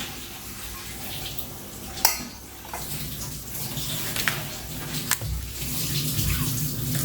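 An item is gently washed with soap and running water, a soft steady splashing and trickling with a few sharp clinks and knocks scattered through it, close by and without talk.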